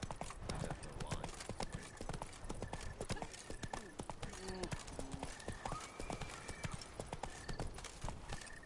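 Horse hooves clip-clopping steadily in The Witcher 3, the horse Roach trotting through Beauclair, with occasional whinnies and a voice talking over the hoofbeats throughout.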